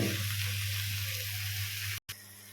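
Mashed bottle gourd peel frying in a pan, a steady soft sizzle with faint stirring under a low hum, broken once by a brief dropout.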